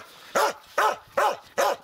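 Laika dogs give four short, evenly spaced barks, close and fairly loud, with no talk.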